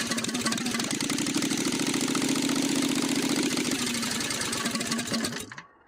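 A Predator 670 engine on a street-legal four-speed go-kart fires off and runs with a loud, rapid, buzzing chug close by, then cuts out abruptly near the end.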